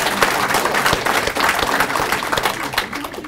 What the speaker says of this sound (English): Give the kid a round of applause